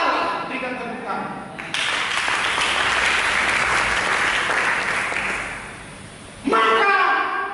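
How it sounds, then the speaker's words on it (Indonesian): A church congregation breaks into steady applause, a dense wash of clapping that swells and slowly fades, framed by a preacher's voice before and after. "Berikan tepuk tangan."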